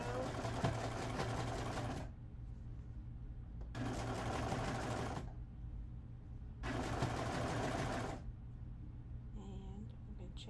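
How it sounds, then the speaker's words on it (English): Sewing machine stitching a seam on soft eyelet fabric, running in three steady whirring bursts of about two seconds each, separated by short pauses with a low background hum and a faint tone at the end. "Put that under the presser foot, just at the edge of the presser foot. And we're going to seam around."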